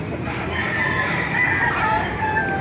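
Chickens and roosters crowing and clucking at a poultry market in Baliuag, Bulacan, a steady close chorus of overlapping crows with no talk.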